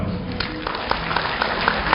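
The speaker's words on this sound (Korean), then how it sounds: "축하의 박수를 보내주시기 바랍니다" Audience clapping in a hall during a 2012 university degree conferment ceremony, a steady patter of many hands at moderate volume with scattered sharper claps.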